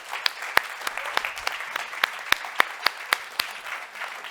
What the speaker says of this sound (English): Can we give ourselves a round of applause as well?